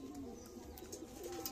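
A pet pigeon coos softly and repeatedly in a rolling, throaty rhythm, faint and close, with a few light chirps and thin background noise around it and no talking.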